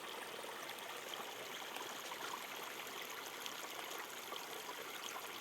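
A babbling brook flowing steadily through a natural channel on a wooded property, a soft, even, continuous wash of trickling water with no voices, faint and unbroken throughout.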